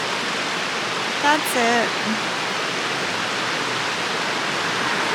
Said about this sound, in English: next stop is Meigs Falls